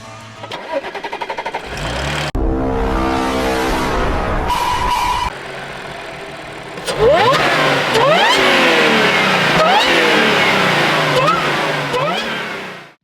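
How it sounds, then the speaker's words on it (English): A supercharged Audi S5 engine cranks with a stutter, catches and fires, then settles briefly before a series of loud revs. A rising supercharger whine sweeps up and down with each blip of the throttle, close by. "now all we gotta do is get a start up and we'll hear that supercharger whine"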